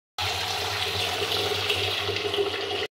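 Tap water runs steadily into a small vessel held under the faucet, a continuous close splashing rush lasting about three seconds with no talk.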